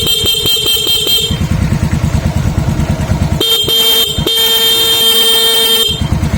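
A Suzuki Raider J 115 Fi motorcycle horn blares in several loud, steady honks of varying length over the bike's idling engine, close by.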